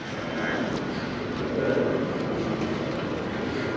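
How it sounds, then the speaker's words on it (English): A jet airliner climbs out from Palma de Mallorca airport beside a sandy beach, its engine a low, broad distant roar that swells gently and then holds steady, fairly faint and alone. "if you like watching aeroplanes taking off, there's going to be a constant flow, one every 2 or 3 minutes"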